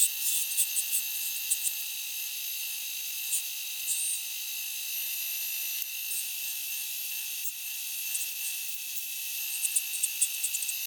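A steady high-pitched whirring hum of a lathe turning an acrylic pen blank, continuous and close, with occasional small scraping ticks from the chisel over the drone.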